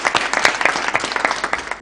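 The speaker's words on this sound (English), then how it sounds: "So clap for her." An audience at a Kenyan moot court competition claps in a brisk, dense burst, many hands close together, with a lively uneven patter for just under two seconds and no speech.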